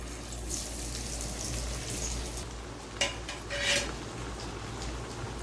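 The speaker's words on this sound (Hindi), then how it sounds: "अब हम इसको फ्राई करेंगे।" Chapli kabab frying in hot oil, a steady close sizzle and crackle throughout, with a couple of brief utensil clinks over it.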